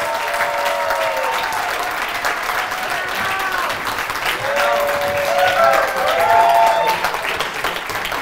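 Studio audience applauding steadily at a bachelorette show's rose ceremony, a dense wash of clapping that swells slightly near the end, with a few whoops or voices rising above it.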